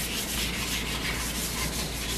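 Sandpaper with baking soda scrubbing a bathroom sink basin, a continuous close, gritty rasping rub that stays loud and steady throughout with no voices.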